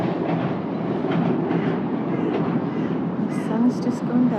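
A train crossing the Forth Bridge in Scotland makes a steady, broad rumble heard from a distance. It runs evenly through the whole stretch, with a few faint high whistle-like tones near the end.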